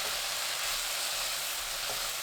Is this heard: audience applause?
no